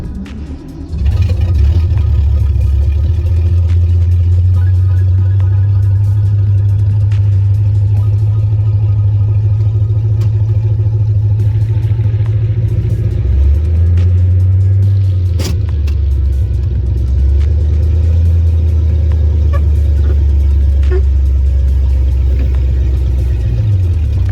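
Car engine running loud and close from inside the moving vehicle, a strong steady low drone that shifts in pitch as it eases off and picks up again, with faint rattles and no talk.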